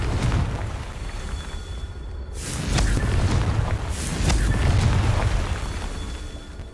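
Confringo spell explosions in the Hogwarts Legacy video game, loud rumbling blasts that swell and linger in a low roar, with a few sharp bursts and no talking.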